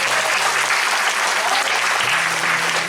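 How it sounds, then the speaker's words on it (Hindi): A close, loud, continuous burst of audience clapping at a Hindi kavi sammelan poetry gathering, dense and even from start to finish. "तालियां बजाना बहुत जरूरी है"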